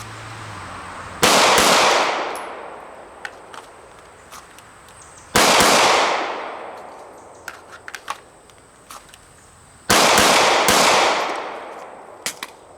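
A Glock 17 Gen 5 pistol fires three separate pairs of rapid double-tap shots. The shots are loud and sharp and ring out across an outdoor range, with quieter clicks and handling noises between the pairs.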